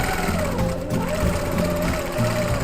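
A sewing machine stitches a quilt with a steady, close, continuous whir and rhythmic mechanical chatter that keeps running without a break.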